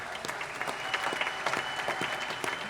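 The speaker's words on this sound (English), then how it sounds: "give our friend Erich Stratmann a round of applause." Audience applause at a cabaret show, a dense, continuous rush of clapping from a crowd, fairly loud and even, with individual claps popping through the steady texture.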